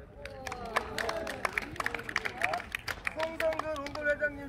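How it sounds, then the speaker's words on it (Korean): Applause from the crowd at a tennis association tournament ceremony, a dense patter of many hands clapping at moderate distance, mixed with overlapping voices and chatter throughout. "박수 한번 크게 치겠습니다"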